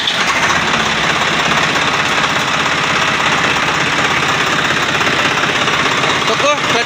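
A motorbike engine runs steadily and loudly throughout, with a rough mechanical clatter from the clutch mixed into the continuous drone; people are heard talking near the bike.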